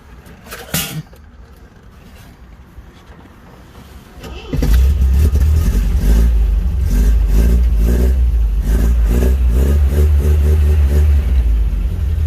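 Rambler car engine cranking and catching, then idling loudly and roughly with a steady rumble and rhythmic revs, close by after a few quiet seconds with light clatter.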